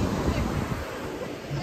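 Strong wind buffets the microphone in a steady low roar along a stony boardwalk, with a broadband rush like surf underneath and no clear speech.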